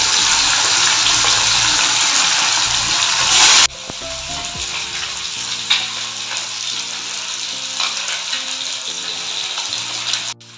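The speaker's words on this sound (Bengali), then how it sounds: "মাছ ভাজা হচ্ছে" Fish fry in hot oil in a wok with a loud, dense sizzle that cuts off abruptly partway through, leaving quieter kitchen clatter and a fainter sizzle afterward.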